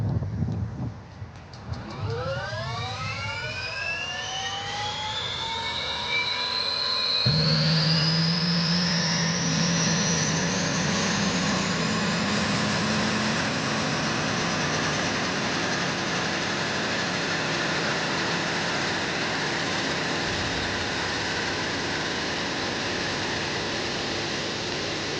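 An aircraft engine is started during repairs in the Arctic: it whines upward in rising tones, then catches and settles into a loud, steady roar that continues to the end.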